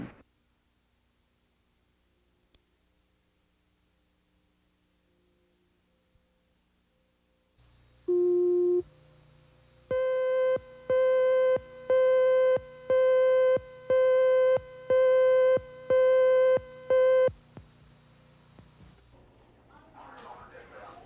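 A telephone busy signal beeps in a steady run of about eight identical tones after a brief lower tone, clear and alone.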